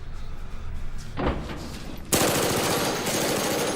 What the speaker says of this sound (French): ici on suit le Gugus à la mitraillette, il mitraille une première fois